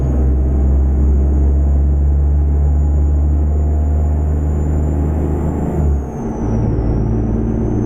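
A Cummins X10 Heavy Duty 400 diesel engine in a Mack R truck in American Truck Simulator drones steadily and loudly, with a brief dip near the end as it shifts before the rumble resumes.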